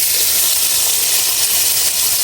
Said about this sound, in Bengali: এখন এই তেলের মধ্যে চিংড়ি শুটকি গুলার একটু ভাজা নিলাম।